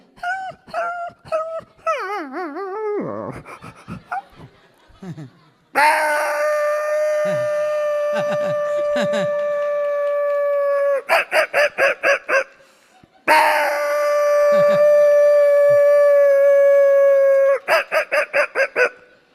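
A voice imitates a dog: short yips and whimpers, then long drawn-out howls held several seconds each, broken by quick barking bursts, loud and close, repeated twice.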